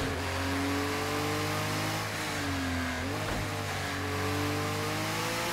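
Race car engine in Project Cars roaring at high revs with the wheels spinning, a loud steady drone whose pitch sags and climbs again as traction slips, alone and close.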